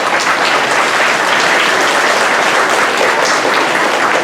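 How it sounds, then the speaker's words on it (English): A crowd of parents gives an enthusiastic round of applause for pre-K students at a school STEM event, a loud, dense, continuous wash of clapping with no pauses and no talk over it. "Let's give them a round of applause."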